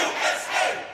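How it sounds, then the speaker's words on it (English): Football fans gathered for a USA versus Iran World Cup match roar and cheer together, a dense, swelling crowd noise heard briefly from a distance. "You could hear the fans cheering already"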